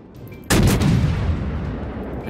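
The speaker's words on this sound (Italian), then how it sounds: "io ti sparo con le torrette e via." Warship turret guns fire in the World of Warships video game: one sharp, loud boom lands abruptly, and a long, heavy rumble then rolls on and slowly fades, with no voices.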